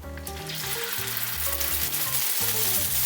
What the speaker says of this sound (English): Now it's time to put our steak onto the skillet.